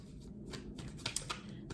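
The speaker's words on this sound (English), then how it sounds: "I'm just going to go ahead and shuffle these cards" Tarot cards being shuffled by hand close up, quick papery riffles and soft slaps in short bursts with no talking.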